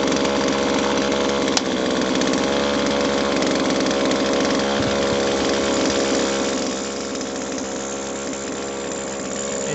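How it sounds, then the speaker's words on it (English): A hot two-stroke chainsaw fires up and settles into a steady, loud buzzing idle close by, running evenly before the engine note drops slightly toward the end. "So I'm going to start the chainsaw back up."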